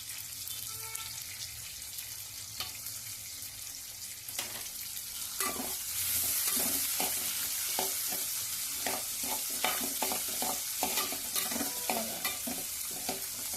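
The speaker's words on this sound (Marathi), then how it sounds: "आता आपला कापलेला टोमॅटो मी यामध्ये टाकते" Chopped tomato hits a pan of cluster beans (gavar) with garlic and green chili, sizzling and frying as a spoon scrapes and stirs in steady strokes, close and fairly loud with no talk.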